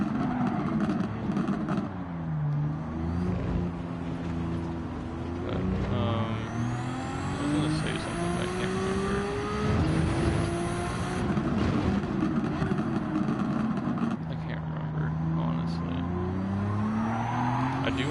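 A drift car accelerating flat out with the engine revving hard, as the tires squeal and skid in long rising and falling wails throughout.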